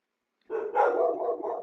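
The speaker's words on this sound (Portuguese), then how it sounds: "meu cachorro vai começar a latir" A dog barks from somewhere in the house after a brief silence, one fairly faint, slightly muffled burst of barking with no talk over it.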